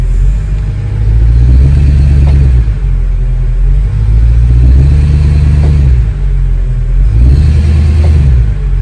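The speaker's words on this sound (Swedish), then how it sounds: "håller full broms och så gasar vi." Car engine revved hard in drive with the brake held fully on, checking a replaced faulty engine mount; loud, steady low rumble that swells in three surges with rising revs, no talking.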